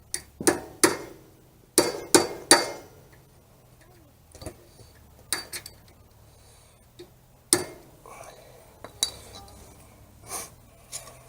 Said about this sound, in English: We're going to take our cotter pin, slide it through, tap her down.